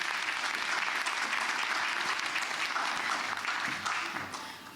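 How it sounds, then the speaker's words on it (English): Sustained audience applause at a women's leadership conference, loud and dense with many hands clapping together, holding steady and then fading toward the end. "Another round of applause."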